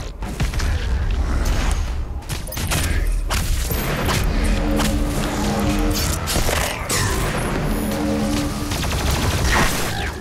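Rapid plasma rifle fire in the shooter Doom Eternal: a dense, continuous stream of sharp energy shots and booming impacts, loud and sustained throughout, over a busy backdrop of combat noise.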